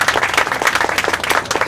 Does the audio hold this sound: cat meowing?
no